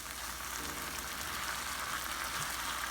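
Sardines with tomatoes frying in a pan give a steady, close sizzle that holds evenly from start to finish, with no talking over it.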